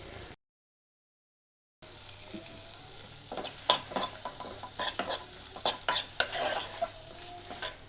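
Soya chunks and chopped tomato sauté in oil in a pan, with soft sizzling and several sharp spoon scrapes and stirs against the pan after a brief gap of silence.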